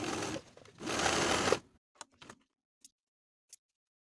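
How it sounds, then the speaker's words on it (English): A sewing machine runs in a steady buzzing burst of about a second and a half, stitching two rows along an elastic waist casing on women's pants. It is followed by a few faint, separate clicks. "we're going to sew 2 rows of stitching along the casing all the way around"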